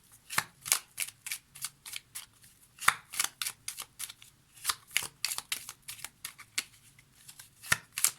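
Tarot cards are shuffled by hand in rapid repeated riffles and taps, close and crisp, with short pauses between bursts and no talk.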